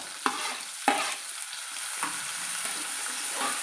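Carrot, potato and tomato sizzle steadily in a hot pan while wheat rava upma is made, with a few sharp scrapes and knocks of a stirring utensil rising above the continuous frying hiss, with no talking.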